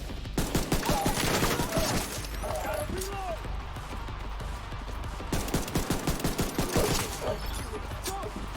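Bursts of rapid gunfire in the shooter game The Division 2, loud clattering volleys in two main stretches with mechanical clanks between, while someone talks over the action.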